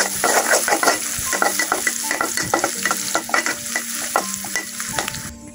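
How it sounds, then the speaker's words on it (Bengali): Onions and green chillies frying in a pan as they are stirred, with close, steady sizzling and repeated scraping strokes of a spatula in an even rhythm and no talking. "নাড়াচাড়া দিব এখন।"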